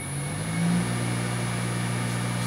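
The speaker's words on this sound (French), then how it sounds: "on actionne le moteur." An electric motor driven by an AT1-2200X variable frequency drive runs with a steady, continuous hum and tonal whine, holding level throughout with no voices.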